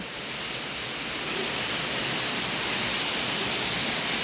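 Steady morning rain pours down in a dense, even hiss that stays constant throughout, loud and close with no voices.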